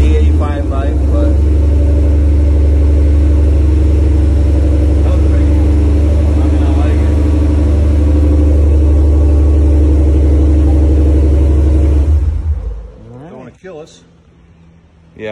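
A 2021 Ford Bronco Big Bend engine runs with a loud, steady low rumble close by for about twelve seconds, then cuts off, leaving faint talking and background noise.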